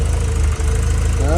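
A 2021 Starquest RV engine turns over and settles into a loud, steady, slightly rough idle with a low rhythmic throb, close up and without speech.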